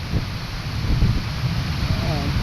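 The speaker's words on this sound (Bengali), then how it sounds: "প্রচুর বেগে কিন্তু বাতাস হচ্ছে।" Strong storm wind blowing hard as rain begins, a rough gusting rumble buffeting the microphone, with a voice briefly audible over it.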